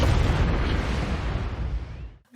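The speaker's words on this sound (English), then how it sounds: "the digital explosion on the road." A digital explosion on a road in the film Jeepers Creepers 3 booms loudly from the start as one dense, rumbling blast, then decays and fades out over about two seconds.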